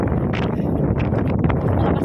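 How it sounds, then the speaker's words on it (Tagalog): Strong gusty wind buffets the microphone outdoors at a lakeside park in Germany in spring, a loud rumbling roar with rustling bursts throughout. "Ang lakas ng hangin."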